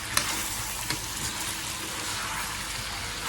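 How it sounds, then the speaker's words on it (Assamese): Chicken frying with turmeric and salt, a constant bright sizzle and crackle at close range with a few small pops, no voices. "এয়া হালধীয়া নিমখ দি পেলাই ফ্ৰাই কৰি আছোঁ এতিয়া।"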